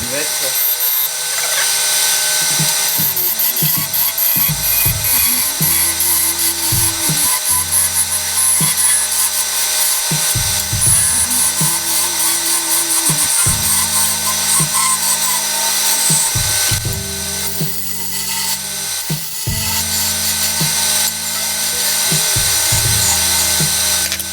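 A power drill bores a hole in wood for a small tabletop Christmas-tree spinning top, running in repeated short bursts that rise and stop with brief pauses between, close and loud.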